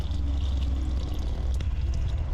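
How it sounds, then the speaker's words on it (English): Diesel fuel pours steadily out of a crashed Alfa Romeo, giving a continuous close splashing and trickling rush with no pauses. "Diesel pouring out."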